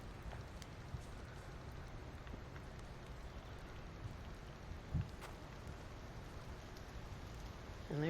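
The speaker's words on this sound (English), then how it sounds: "And there comes the rain." Steady rain falls in the video game The Infected, a dense, even hiss filling the clip at low level, with a brief thump near the middle and rising intensity at the end.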